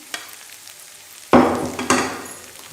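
Fried egg tossed into a pan of stir-frying vegetable chowmein noodles, a soft background sizzle jumped by two sharp clattering bursts of sizzling and stirring, near and loud.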